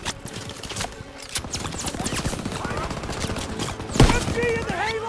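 Rapid machine-gun fire crackles through a World War II D-Day mission in Call of Duty WW2, dense rattling bursts mixed with battlefield noise and a louder hit near the end.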